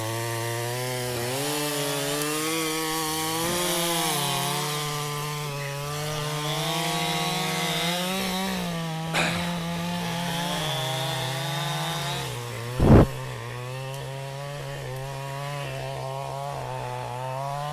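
A Husqvarna 550 chainsaw straining and bogging down while cutting trees, its engine drone steady and close with shifting pitch as it labors through the wood, plus a sharp knock partway through.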